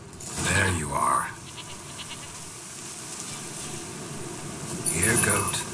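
Goat bleating in The Witcher 3: Wild Hunt, two short bleats near the start and another near the end, heard over a steady ambient game background with a voice speaking.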